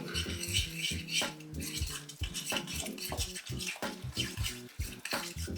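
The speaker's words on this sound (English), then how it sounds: "And then we add our yogurt. And then we stir it up." Spoon stirring yogurt into a shoarma sauce in a bowl, with a steady run of close metallic scrapes and clinks against the dish, fairly quiet, no talking.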